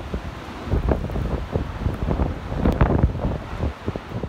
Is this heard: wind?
yes